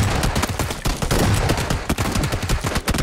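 Rapid bursts of gunfire from the battle royale game PLAYERUNKNOWN'S BATTLEGROUNDS, loud, dense, crackling shots fired in quick succession throughout, with no talk over them.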